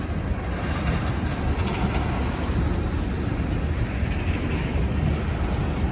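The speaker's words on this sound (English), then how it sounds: "This is called the midnight train" The midnight freight train rolls past near a tunnel in the early morning with a steady, loud, close rumble and rattling wheel noise throughout.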